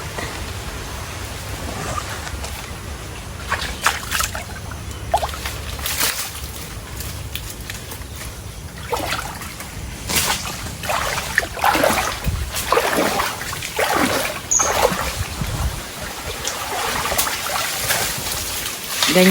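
Seawater trickles and splashes steadily through muddy shallows where shrimp are being gathered, a continuous, fairly loud watery wash with scattered sharper drips and splashes throughout.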